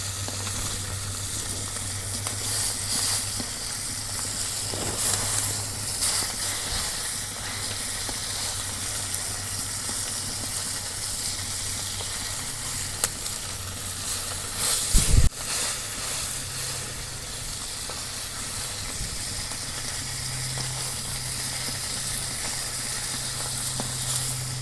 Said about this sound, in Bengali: এখন এক পিসটে ভাজা হয়েছে, আর এক পিসটে ভাজবার নিগে উল্টে দিই।